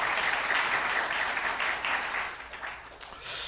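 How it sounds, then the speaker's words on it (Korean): A church congregation applauds to thank pastor Kim Hyun-soon, a steady wash of many hands clapping that thins out toward the end, with a few sharper claps near the close. "우리 다 같이 박수로 감사의 마음을 전하도록 하겠습니다"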